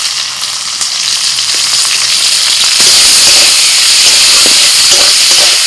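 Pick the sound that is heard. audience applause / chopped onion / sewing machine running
chopped onion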